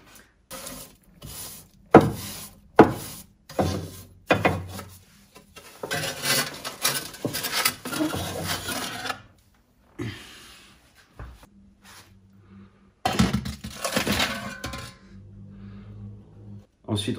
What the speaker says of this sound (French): cette petite pelle qui est très commode parce qu'elle est plus étroite, elle me permet d'entrer vraiment dans la cheminée et donc je prends le balai pour récolter la poussière